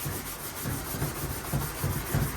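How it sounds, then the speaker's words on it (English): Hand sanding a scuffed part on a Road Glide motorcycle before primer, a close, steady scratchy rubbing in repeated strokes about twice a second, with no talking. "And sand it out, and then prep this piece"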